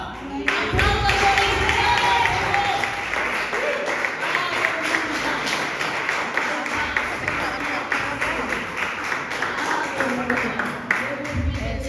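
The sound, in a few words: congregation applause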